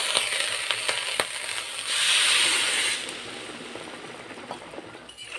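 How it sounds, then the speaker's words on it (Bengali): Water poured from a bowl onto sugar in a cooking pan while making semolina Chitrakoot sweets, a soft rushing hiss lasting about a second, framed by light clinks and scraping utensil sounds. "এবার আমি এই বাটির 1 বাটি জল দিয়ে দেব।"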